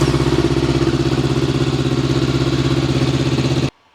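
A Honda SCL500 motorcycle engine idles steadily and loudly up close with an even, throbbing pulse, then cuts off abruptly near the end, leaving silence.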